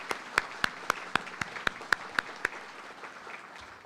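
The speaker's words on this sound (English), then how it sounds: "let's give them a round of applause" Audience applause at a university honors college graduation celebration, with a run of loud, evenly spaced claps close by over a softer bed of crowd clapping that thins out toward the end.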